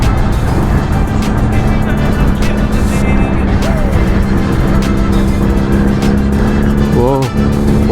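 A Kawasaki superbike fitted with an SC Project exhaust runs loudly and continuously at close range, a steady deep engine drone with a brief rising rev near the end, while people talk over it.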